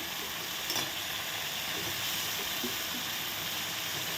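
Tomato paste and peas frying in oil in a home kitchen, a steady soft sizzle and hiss with faint stirring scrapes throughout.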